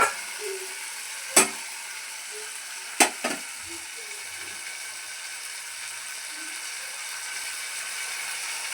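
Potatoes dropping into a pan of hot tempering oil for a brinjal, potato and tomato curry, with two sharp clatters and a soft sizzle under light scraping of a spoon.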